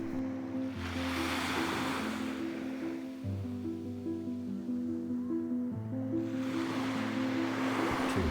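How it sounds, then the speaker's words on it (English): Ocean waves roll in and wash up on a beach in the early morning, a steady, loud surf wash that swells and fades in two broad surges, with a constant low rumble underneath. "To hear those waves rolling in while you're doing your exercise and meditation"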